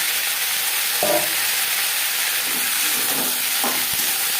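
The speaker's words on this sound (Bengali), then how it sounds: "2 মিনিট পেঁয়াজ ভেজে নেওয়ার পর দিয়ে দেবো ক্যাপসিকাম।" Onion and capsicum frying in a pan, a loud, continuous hissing sizzle with a few soft stirring knocks, close and steady without speech.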